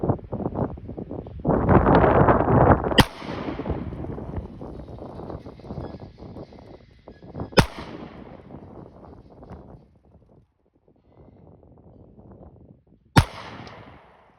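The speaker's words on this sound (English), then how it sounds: "for a 9mm pistol I'm going to shoot" Three sharp, loud gunshots from a Kimber Micro 9 9mm pistol at an outdoor range, spaced several seconds apart, each a crisp crack with a brief echo, over wind and handling noise between shots.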